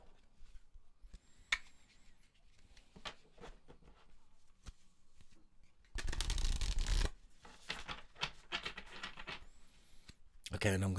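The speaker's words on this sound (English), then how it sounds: "I have already shuffled the deck quite a few times, but I'm just going to do a couple more." Cards are shuffled several times: soft riffling and tapping, then a loud, dense riffle burst, followed by more tapping and another short riffle.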